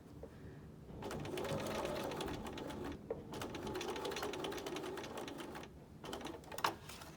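A sewing machine stitches elastic onto a fabric mask in three steady whirring runs, each broken by a short pause, close and fairly quiet with a small clunk near the end.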